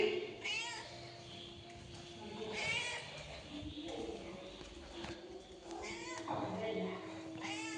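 A cat being fed meows several times in bright, drawn-out cries spread across a few seconds, with indoor voices and background noise around it.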